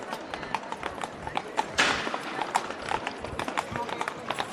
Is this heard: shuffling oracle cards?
no